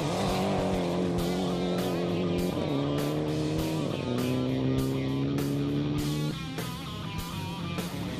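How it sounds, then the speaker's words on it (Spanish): A rally race car engine at full throttle screams through repeated upshifts, the pitch climbing then dropping at each gear change, loud and close from inside the car, with the engine easing near the end. "Con el motor a fondo aquí alcanzamos los 230 km por hora"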